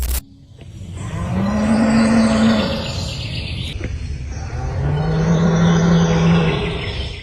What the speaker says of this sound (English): the true source of the roar remains a mystery